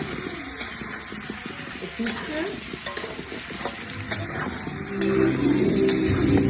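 Potatoes for a chicken dish sizzle and fry in a pan with clinks of stirring, growing louder and more crackly toward the end.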